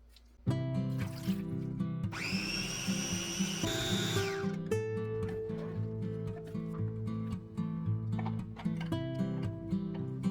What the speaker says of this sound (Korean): 새우젓 한 큰술, 멸치 액젓 세 큰술, 생수 두 컵 넣고 부드럽게 갈아주세요